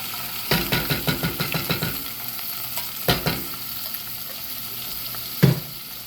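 String beans hit hot bacon fat in a pan with a burst of loud crackling sizzle, a quick run of sharp pops and stirring scrapes, then settle into a steady low fry with a couple of clattering knocks.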